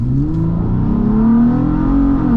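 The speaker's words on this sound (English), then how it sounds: "That that 6-cylinder does have some nice noises to it" Toyota FJ Cruiser 4-liter six-cylinder engine revving nearby, a loud, smooth rising and falling drone with strong low rumble, heard alone.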